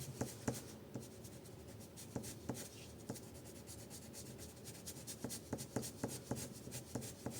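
Colouring on paper with a pencil, soft close scratching strokes in short rhythmic bursts with small taps between them, quiet and alone with no speech.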